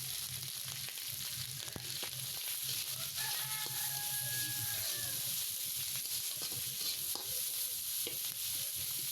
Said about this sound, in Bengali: এখানে আমি পেঁয়াজ দিয়ে দিতেছি যাতে চিংড়িটা আর পেঁয়াজটা একসাথে হয়ে যায়।